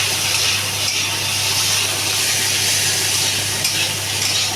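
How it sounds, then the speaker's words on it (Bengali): Potatoes frying in a pan give a steady, close sizzle with stirring scrapes running the whole time, loud and even with no talking. "আলুটা ভালো করে একটু ভেজে নিয়ে একটু ভাজিয়ে ভাজতে হবে"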